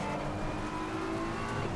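A BMW M4 GT3 race car engine in a racing video game drones steadily at high revs, a continuous motor whine filling the whole moment with no speech.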